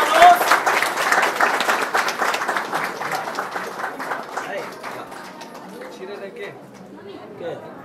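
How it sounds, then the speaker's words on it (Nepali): Guests at a Nepali Christian wedding clap after the ring exchange. The applause is loud at first and tapers off over several seconds, with chatter and voices mixed in. "ताली बजाउनुहोस्।"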